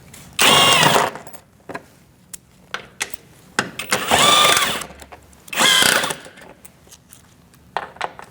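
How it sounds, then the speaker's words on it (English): A power tool spins out bolts from the engine splash shield under a 2008–2014 Mercedes-Benz C300, three loud whirring bursts of about a second each, separated by quieter clicks and handling noises. "we're going to remove these 4."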